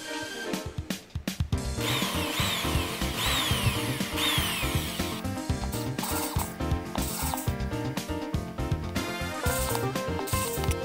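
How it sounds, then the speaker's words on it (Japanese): A small power drill bores one hole after another through a copper-clad circuit board, a close, loud whirring whine that rises and dips in pitch with each hole, continuous for about ten seconds with no talking. "あとはひたすら穴を開け続けます。"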